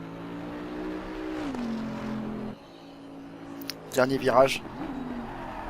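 Bentley race car in Assetto Corsa Competizione at Mount Panorama, Bathurst, its engine droning steadily, dropping in pitch under braking, then rising again in a sharp rev, with someone talking over it.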